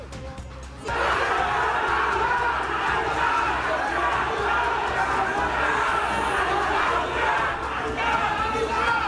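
Rival crowds of gubernatorial candidate supporters near a debate venue in Makassar, South Sulawesi, roar and chant yells together, a dense, loud, sustained wall of voices that surges in abruptly and stays steady throughout.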